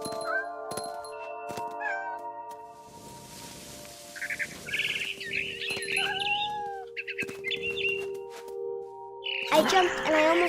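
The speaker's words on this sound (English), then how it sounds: "And suddenly, I was a cat." Cat meows from a character in the video game What Remains of Edith Finch, mixed with bird chirps and tonal game music, moderately loud with several short calls across the scene.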